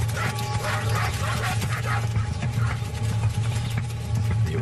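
African wild dogs, each about the size of a Doberman, yip, whimper and bark in a steady busy chorus while they harass a lone hyena in the field, the calls layered over constant low rumbling background.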